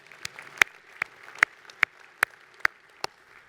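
About eight single claps fall in a slow, steady rhythm during a keynote address, each sharp and distinct, at moderate loudness over a quiet background.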